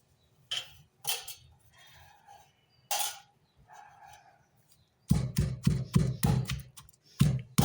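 Soaked fenugreek seeds and amla slices being pounded, with a few sharp isolated knocks at first, then a fast run of loud, close rhythmic thuds near the end.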